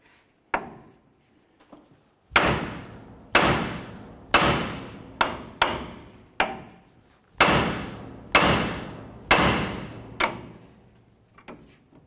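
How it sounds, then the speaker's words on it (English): A hammer strikes the steering knuckle of a 1999-2007 Chevy Silverado to free the outer tie rod end, about a dozen sharp metallic blows with ringing decay, close and loud, spaced roughly half a second to a second apart. "we're going to hit right here on the knuckle to break our outer tie rod end free from the knuckle"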